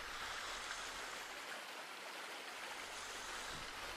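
Steady broadband rush of flowing stream water, constant and fairly loud throughout with no voices, a continuous wash that hardly varies from start to end.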